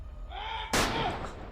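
A single loud gunshot cracks out in a tense armed standoff. A faint tonal sound comes just before the sharp blast, which then decays into a brief rumbling tail.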